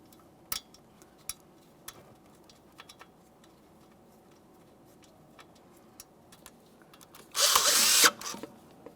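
Power tool driving a 10mm mounting bolt on a 2014-2019 Toyota Corolla front hub: scattered light ticks, then one loud whirring burst of about a second near the end, close and with no talk.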